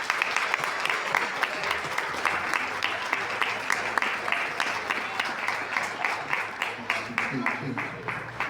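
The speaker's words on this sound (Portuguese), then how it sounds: "Vamos receber aplaudindo ao Senhor Jesus." A church congregation applauds during a Sunday evening service, a steady wash of many hands clapping with sharp individual claps standing out, continuing at even loudness throughout, with a faint voice underneath near the end.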